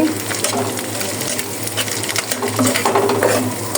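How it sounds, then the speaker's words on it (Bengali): Egg and fried onions are stirred together in a pan with shapla (water lily stems), giving continuous scraping and sizzling with light metallic clinks, fairly close and steady throughout. "একটি ডিম দিয়ে দিলাম দিয়ে এখন এভাবে পেঁয়াজের সাথে এক করে নিতে হবে"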